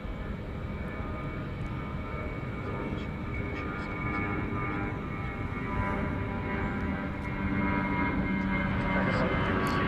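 A jet airplane taxis at DFW Airport at night, its engine a steady, distant hum and whine that grows slightly louder, with a voice speaking over it.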